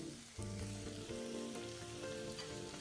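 Chicken pieces and shiitake mushrooms land in a hot pan for Nyonya pongteh chicken and start to sizzle and crackle steadily. The sound is soft and close, with light stirring and no voices.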